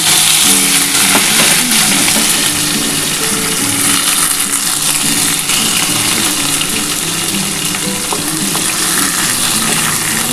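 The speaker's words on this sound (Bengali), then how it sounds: "আমি প্রথমে কিন্তু নিম পাতাগুলো অল্প করে ভেজে তুলে নেব" Neem leaves fry in hot mustard oil in a wok, producing a loud, dense, unbroken sizzle heard up close with faint stirring underneath and no voices.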